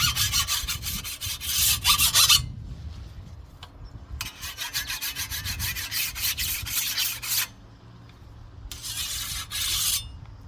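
An early 1900s scythe blade is sharpened by hand, including light passes on the back to take off the burr: three bursts of close, rhythmic, rasping strokes separated by quiet gaps.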